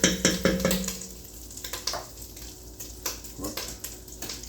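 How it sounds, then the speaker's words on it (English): Carrots, onions and celery sizzle in butter in a pot over medium heat, a soft steady crackle broken by repeated sharp clinks and scrapes of a utensil against the pot. "Now we're gonna add our carrots and onions and celery."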